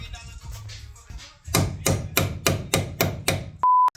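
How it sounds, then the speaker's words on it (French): A hammer taps on a part of a Honda Civic EK, with about eight sharp, evenly spaced metallic blows after some quiet handling sounds, followed by a short electronic beep. "je le taperai avec un marteau"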